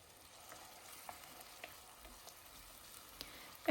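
Chopped meat and onions fry quietly in a pan for a vegetable pilaf, a soft steady sizzle with occasional light stirring clicks and a louder scrape at the end.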